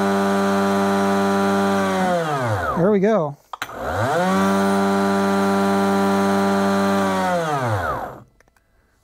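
A Kobalt/Greenworks 80V cordless chainsaw runs up to a steady high electric whine, cuts out briefly, spins up again, then winds down; loud and close, with someone speaking briefly.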